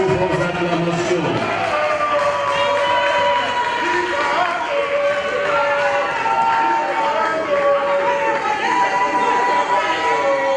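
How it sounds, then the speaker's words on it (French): An audience at a Kinshasa provincial assembly session cheers and applauds a deputy's proclamation, with sustained crowd noise, clapping and overlapping voices, steady and fairly loud throughout. "Et cela sous vos acclamations."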